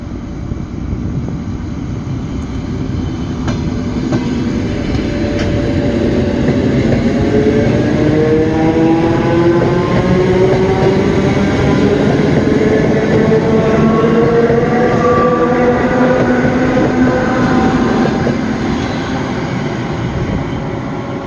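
A suburban train in Riga, Latvia rolls along from the inside, a loud continuous rumble with rising and falling motor whine tones sweeping through the ride, steady and unbroken.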